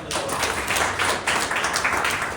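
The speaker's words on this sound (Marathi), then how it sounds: "एकदा जोरदार टाळ्या." Audience applause at a Marathi business plan presentation, a steady wash of many hands clapping that holds at even loudness for about two seconds.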